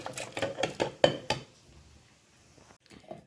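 Cooled, cooked carrot pieces drop into a steel mixer jar with several quick clinks and clatters close by in the first second and a half, then quiet handling and a faint bump.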